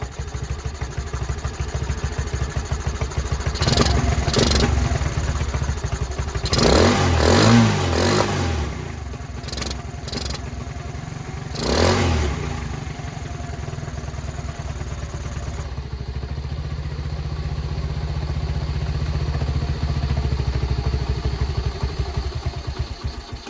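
A ROJO motorcycle engine converted from EFI to carburettor runs at a steady idle, with several sharp throttle blips clustered in the middle before settling back to an even idle.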